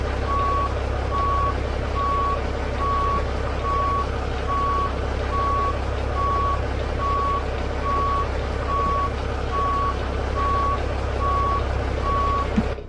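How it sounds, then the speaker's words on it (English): In American Truck Simulator, a truck backs up at idle speed with a steady series of reversing beeps over a constant loud engine drone, ending in a small bump. "I'm backing up at idle speed."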